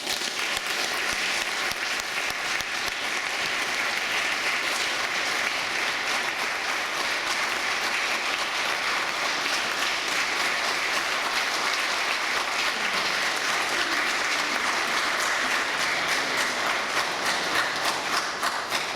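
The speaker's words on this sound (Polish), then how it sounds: "wielkie brawa i serdeczne gratulacje" Sustained applause from an audience at an awards ceremony, a steady dense wash of clapping that holds evenly for the whole stretch without pause.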